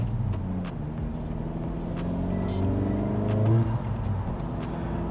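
2023 Acura Integra A-Spec with PRL Motorsports upgrades driving, its engine and exhaust droning steadily from inside the cabin with a gradual rise in pitch as it accelerates, no talk.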